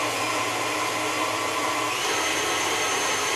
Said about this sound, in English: beat this together until it's smooth and creamy, a little fluffy, medium speed, about number 6 on a KitchenAid